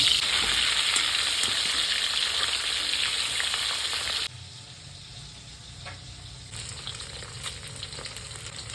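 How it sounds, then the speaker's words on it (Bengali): Loud, steady crackling sizzle of fish frying in hot oil, which drops abruptly to a quieter simmer midway before picking up again. "মাছটাকে এখন ভেজে নেব।"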